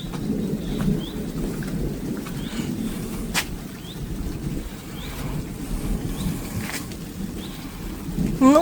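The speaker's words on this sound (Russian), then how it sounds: "Ну, говорят, что когда дождь в дороге, это хорошо." Rain falls steadily on a car during a road trip, with a few sharp distant thunder cracks and rumbles rising over the constant wash of rain.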